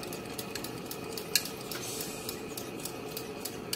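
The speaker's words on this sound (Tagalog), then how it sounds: "Kailangan nakabate yung ating itlog." Egg being beaten for chicken lomi, quick rhythmic ticking of a utensil against a bowl, faint and close, with a sharper clink partway through and no voices.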